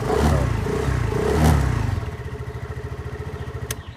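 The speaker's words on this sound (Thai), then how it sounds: "รถสตาร์ทติดง่ายครับ เครื่องไม่ดังควันไม่ไหลนะครับ" A 2021 GPX Drone 150 two-valve keyless motorcycle starts up close by, then settles into a steady, rhythmic idle with even pulsing and a small click near the end.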